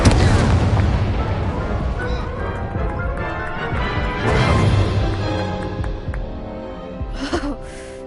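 Incendio fire spell cast in Hogwarts Legacy on PS4: loud, booming bursts of fiery crashes and rumbling impacts that roll on for several seconds, with a brief sharper flare near the end.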